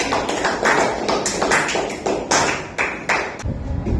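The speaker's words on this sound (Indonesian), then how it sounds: "Kita kasih tepuk tangan ke kelompok 4." A classroom group in an Indonesian teacher-training session claps for a discussion group, producing loud, close, irregular bursts of hand claps and taps that continue throughout.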